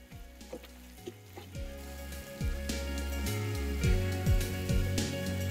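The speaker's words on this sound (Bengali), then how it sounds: "তারপর এটাকে আবারও ভালো করে মিশিয়ে নেবো যতক্ষণ না টমেটোটা একদম পারফেক্টলি গলে যাচ্ছে" Tomatoes and salt sizzle in a pan for mutter paneer, a soft close frying hiss with a series of scraping, knocking stirs from a spatula, steady and without talk.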